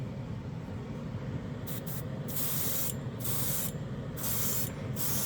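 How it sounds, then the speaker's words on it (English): An airbrush sprays light gray metal paint in short hissing bursts of varying length, close and steady, with a faint background hum between the bursts and no talking. "Really efficient too, the airbrush and the paint."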